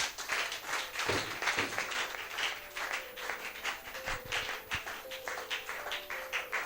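A church congregation claps steadily together in a broad, continuous wash of applause, with a faint sustained musical tone running underneath.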